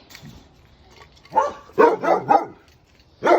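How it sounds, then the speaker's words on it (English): Several dogs bark in quick bursts, a cluster of sharp barks in the middle and another at the end, fairly close with quiet gaps. "sorry about the dogs."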